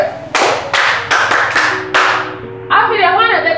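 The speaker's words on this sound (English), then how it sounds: "Clap for yourself." Students in a classroom give a short round of clapping, a handful of sharp rhythmic bursts near the mic, followed by voices.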